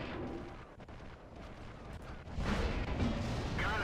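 Wespe self-propelled artillery firing in World of Tanks, a dull heavy boom swelling over a constant rumble of engine and battle noise.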